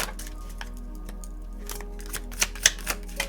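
A deck of tarot cards being shuffled: a soft, continuous riffle of flicking and slapping card edges, with a few sharper snaps near the end and no talking.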